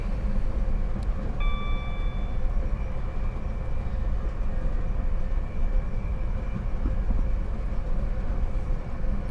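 A Gatwick Express Class 460 electric train in a simulator game rumbles along steadily with continuous low running noise, and a brief high warning tone sounds early on.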